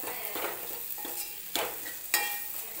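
Masala spices roast in a pan with a soft, low sizzle, broken by a few sharp stirring knocks against the pan's metal.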